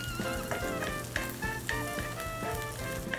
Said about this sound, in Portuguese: aqui tem que ir mexendo, deixa fritando no fogo baixo